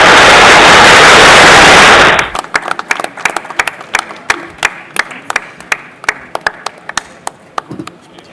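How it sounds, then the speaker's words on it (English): An audience at the inauguration session of a business growth event applauds a launch. A loud roar of clapping runs for about two seconds, then breaks into scattered individual claps that fade out. "Round of applause for the launch."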